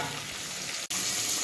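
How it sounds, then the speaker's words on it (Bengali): Food sizzles and fries steadily in a pan on a home stove, a continuous close crackle with one brief dropout. "ভাজাটা করতে দিয়েছি তো ভাজাটা আমাকে ভাজতে হবে"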